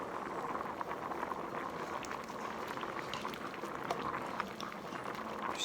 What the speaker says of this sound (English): I've got these boiling at a high rolling boil